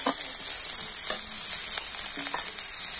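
Tomato is dropped into onions frying in a pan, sizzling steadily and close up with a few brief stirring scrapes, and no voices.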